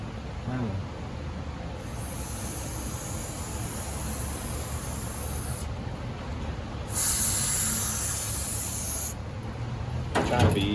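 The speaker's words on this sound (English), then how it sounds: "get this brake cleaner, this straw" Brake cleaner hissing through a straw nozzle onto an engine's rear main seal area in steady spray bursts, with louder surges partway through and near the end, close up.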